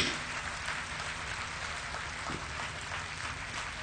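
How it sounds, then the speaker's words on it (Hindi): A crowd at a spiritual gathering claps with raised hands, a steady, dense wash of applause filling the hall at moderate distance and holding evenly for several seconds without speech. "हाथ ऊंचे करके तालियां बजाएं"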